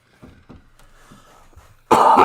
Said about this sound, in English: I was coughing into my arm because we're responsible